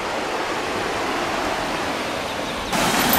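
Water pouring down steadily from above beside a hiking trail, a loud continuous rushing wash with no voices, swelling slightly louder near the end.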